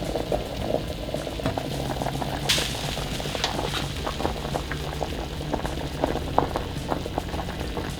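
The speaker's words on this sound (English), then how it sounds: "adding those vegetables and some cashews to some water, bringing them to a boil for about 10 minutes" Water with vegetables and cashews boils steadily in a pot, giving a dense, even bubbling rumble with occasional sharper pops, heard close and continuous with no voices.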